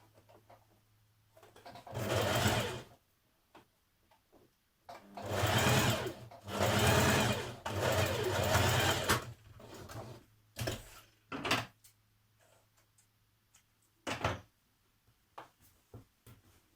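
A sewing machine stitches fabric for lounge trousers in several bursts of a few seconds each, a close, steady whirring hum separated by quiet pauses and small handling clicks.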